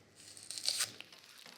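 Knife slicing through spring onions on a cutting board, a short crisp crunching and tearing burst in the middle, moderately close, with no talk.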